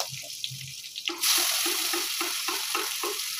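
Chopped onions drop into hot oil in a pan beside potatoes for a mutton masala. A loud, steady sizzle bursts up after a short quiet start and runs on without a break.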